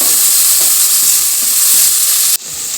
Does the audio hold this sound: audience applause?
no